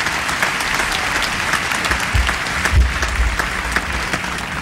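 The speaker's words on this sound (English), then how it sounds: "Give yourselves a big round of applause." Theatre audience at the Apollo Theatre in New York clapping steadily throughout, a dense, even roar of applause with occasional low thumps and a few shouts from the crowd.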